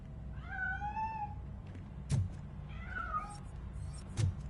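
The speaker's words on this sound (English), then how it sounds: "That cat must be hiding inside." Cat meowing in RoboCop: Rogue City, two drawn-out meows separated by sharp knocks against a quiet low hum.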